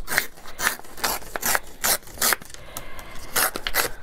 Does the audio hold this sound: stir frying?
no